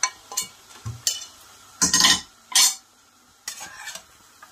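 Mutton with ground spices and bay leaves is stirred in a pan in a few separate close bursts of scraping and clinking, with quiet gaps between and a faint sizzle.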